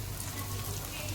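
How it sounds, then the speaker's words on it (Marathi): Veg cutlets shallow-frying in a pan over medium gas give a steady, soft, even sizzle with no talk, quiet and continuous throughout. "आता मी असे सगळे फ्राय करायला पॅनमध्ये ठेवलेत"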